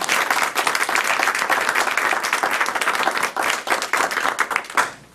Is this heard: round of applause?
yes